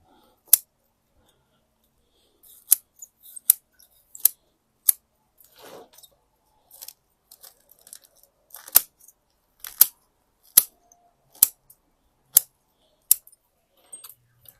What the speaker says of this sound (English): sometimes I just like to try and cut back some of these roots just to free up the root ball